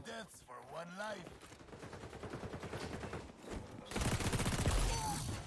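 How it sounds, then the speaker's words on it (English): Gunfire in a multiplayer shooter video game: rapid automatic bursts crackle steadily throughout at moderate distance, getting louder and denser toward the end, with players talking over it. "I hear shooting. Where is it?"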